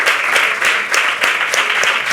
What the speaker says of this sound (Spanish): Pues aplaudir que se merece un aplauso.